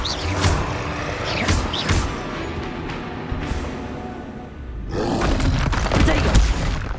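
Spells fired in Hogwarts Legacy, the video game: a dense, loud run of blasts, crackling bursts and magical whooshes, with a short lull before another heavy flurry near the end.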